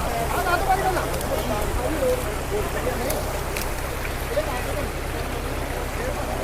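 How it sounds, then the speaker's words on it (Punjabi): Sutlej river in heavy flood, water surging past under high pressure: a steady, dense broadband roar fills the scene without pause, close and loud, with scattered background voices mixed in. "ਦਰਿਆ ਦਾ ਜਿਹੜਾ ਪਾਣੀ ਆ ਬਹੁਤ ਪ੍ਰੈਸ਼ਰ ਦੇ ਨਾਲ ਆ ਰਿਹਾ"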